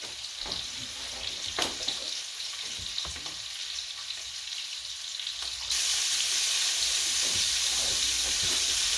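Pork chops fry steadily in a hot pan, a continuous bright sizzle and crackle with occasional sharper pops, growing louder and denser toward the end.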